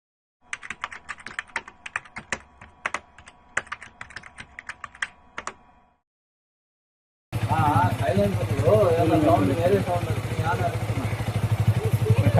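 A motorcycle engine runs with a steady, close rumble after a short silence. Earlier, sharp clicking taps sound over a quieter background.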